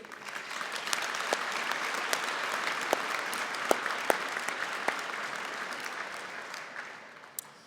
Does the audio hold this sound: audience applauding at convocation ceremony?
yes